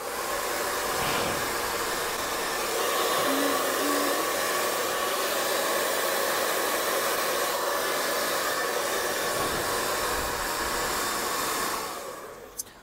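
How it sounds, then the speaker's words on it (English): A hair dryer blows steadily on styled hair, a loud continuous rushing whir that runs unbroken for about twelve seconds before cutting off. "I'll just apply a hairdryer in the back direction."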